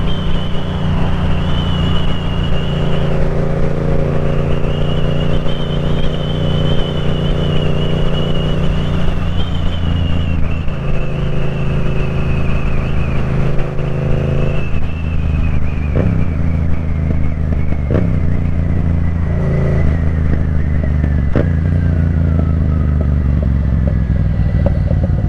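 Steady engine drone and heavy wind roar of a Yamaha FZ-07 motorcycle ridden at 55 mph with the helmet visor open, continuous and loud for the whole stretch, with no talk.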